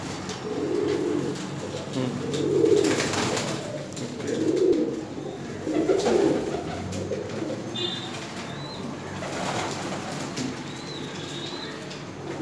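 Pigeons coo in soft, repeated low rolling calls close by, with occasional wing flaps and faint chirps in a quiet setting.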